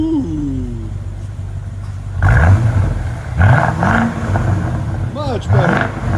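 A 2015 BMW 650i with a 4.4-litre V8 and muffler delete revs repeatedly, deep rising and falling bursts of engine roar that are loud and close, with someone talking between the revs.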